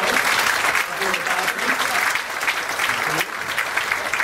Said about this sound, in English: give a round of applause over there